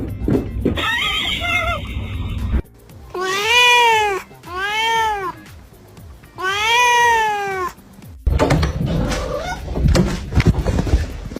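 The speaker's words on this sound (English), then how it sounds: "Meow meow meow meow meow." A pet cat meows loudly and close by, three long drawn-out calls in a row, with bursts of handling noise and rustling before and after.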